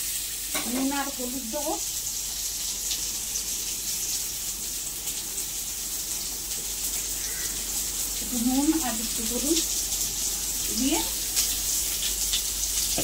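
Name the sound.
potatoes frying in oil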